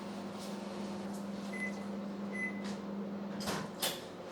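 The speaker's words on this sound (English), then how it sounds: "your microwave's just pinged." A kitchen microwave oven finishes heating and gives two short, clear electronic pings about a second apart, heard over a steady low appliance hum and faint room noise.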